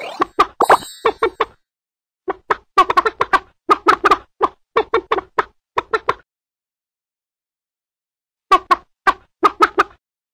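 Short, quick clucking bursts from hens in a BabyBus children's game come in clusters, pause for a couple of seconds, then return in another brief flurry, sounding like animated chickens.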